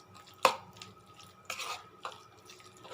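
A spoon stirs a chicken mixture with egg and cornflour in a bowl, giving a sharp clack followed by a few softer scraping strokes, close and quiet, with no talking.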